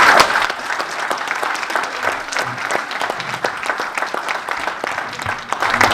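A conference audience applauds a speaker after a talk on justice and law, with sustained dense clapping from the room, steady throughout.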